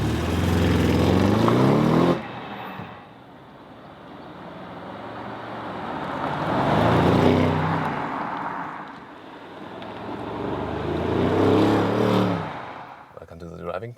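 An Audi RS6 Avant Performance with a 605 hp V8 drives on the road, its engine note swelling and fading in several rising passes, close and fairly loud, with road noise beneath.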